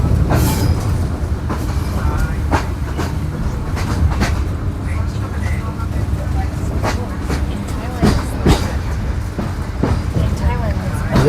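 Old Soviet-style Elektrichka electric train, a narrow-bodied commuter carriage, rolling on rails in Bulgaria: a steady low rumble with irregular rail clicks and knocks throughout, heard from inside the car.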